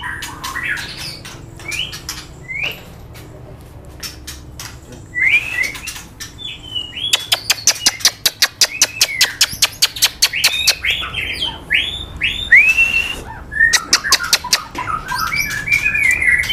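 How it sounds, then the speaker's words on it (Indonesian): A murai songbird sings nearby in loud, varied bursts of whistles, chirps and squawks, including a fast run of repeated sharp notes, with short pauses between phrases and no talking. "Ini yang di depan kita ini burung murai"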